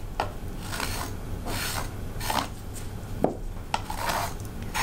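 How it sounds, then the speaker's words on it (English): Steady scraping and rubbing strokes, close by and moderately loud, repeating in uneven bursts like sandpaper worked over a soft, freshly made Jesmonite AC100 cast. "this is the perfect time for any sanding or sorting that you want to do"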